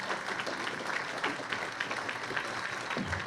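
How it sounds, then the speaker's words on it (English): An audience at a chamber of commerce candidates forum gives a round of applause, a moderately loud, dense patter of many hands clapping at an even level throughout. "Give them a round of applause."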